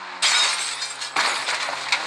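In the Indian Bike Driving 3D video game, a Supra car's glass shatters in two loud, bright crashes about a second apart, each trailing off into scattered tinkling, with no speech.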